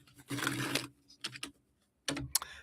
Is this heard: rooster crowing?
no